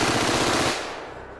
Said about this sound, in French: c'est l'équivalent de la mitrailleuse de Rambo, c'est ce qu'on a utilisé pour le plan de la tourelle